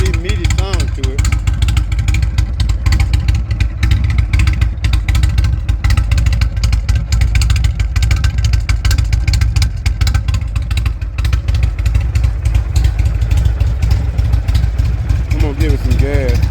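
A motorcycle engine idles close by with a loud, throaty, pulsing low rumble throughout, while people talk over it now and then.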